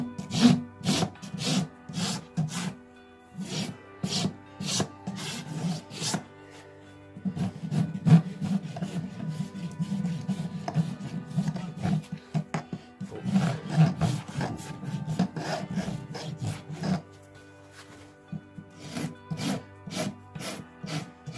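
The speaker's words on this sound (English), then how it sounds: "File it down to keep it smooth." Farrier's rasp filing down a horse's hoof at a riding stable, a series of close, rough scraping strokes in uneven bursts with short pauses between them, no voices.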